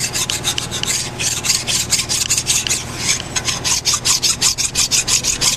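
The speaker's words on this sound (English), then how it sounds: "I'm going to take just a bastard file and finish removing the gasket, and plus making sure the housing's flat and deburring" A bastard file scrapes old gasket off a hydraulic pump housing from a Ford 641 tractor in loud, close, rhythmic rasping strokes, roughly three or four per second, with no voices over them.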